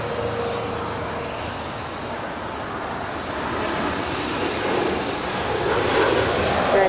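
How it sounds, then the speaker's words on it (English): A United Airlines Boeing 787-10 Dreamliner departing runway 25 right at LAX, a broad distant jet roar that builds slowly and stays steady throughout. "United Airlines flight 2614 heading to Newark. It's a 787-10 Dreamliner now departing at 25 right."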